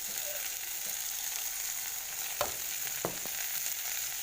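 Ingredients for a sour fish curry fry in a pan, a constant even sizzle with a couple of brief stirring clicks, heard close and alone without any talk.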